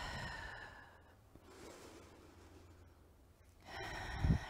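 A slow, deep breath during a yoga session, a long audible inhale and exhale through the nose, close and quiet in a still room, ending with a louder final exhale.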